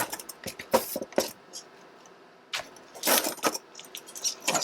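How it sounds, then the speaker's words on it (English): A small RC crawler truck with high clearance and a low-slung skid clatters across metal tools on a workbench, sharp rattling knocks in uneven bursts with a quiet pause in between. "that's the truck driving over tools and whatever's on the bench with its newfound super high clearance, super low CG skid"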